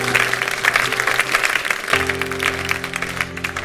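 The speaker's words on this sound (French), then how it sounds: "Quelqu'un ici acclame Jésus" A church congregation applauds to acclaim Jesus, a steady, fairly loud patter of many hands clapping over a sustained organ or keyboard tone.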